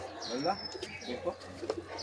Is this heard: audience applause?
no